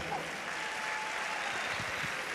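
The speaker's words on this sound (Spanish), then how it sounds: "Un aplauso para Isaac" A congregation at a bilingual church gathering applauds a speaker, giving a steady, even patter of clapping heard at a moderate level for a couple of seconds.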